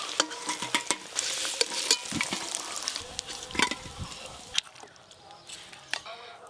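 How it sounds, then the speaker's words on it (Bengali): Mango pieces fry in oil in a pan, a close, steady sizzle with bursts of crackle and the scrape of stirring throughout, louder in the first half before easing off. "লাল লাল করে ভাজা হয়ে গেছে"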